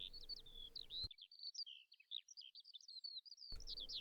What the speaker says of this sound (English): the ground recovered, and the birds once more sing